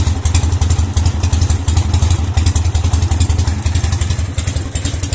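A Dnipro MT motorcycle engine, its ignition freshly repaired, runs steadily close by with a loud, even, pulsing rumble and a metallic clatter throughout, with no voices.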